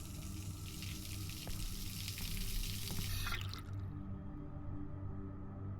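Water running steadily from a spout in the video game Observer, a continuous close hiss and splash with a low hum beneath, cutting off abruptly about two-thirds of the way through, leaving a quieter background.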